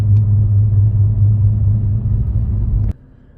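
Low steady rumble inside a car, a loud idling engine drone that cuts off abruptly near the end, leaving quieter cabin ambience.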